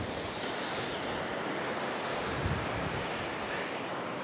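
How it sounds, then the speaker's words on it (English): Strong wind blowing across a Patagonian beach at the Las Grutas resort, a loud steady roar buffeting the microphone for the whole stretch, with a faint surf wash beneath and no voices. "It is windy."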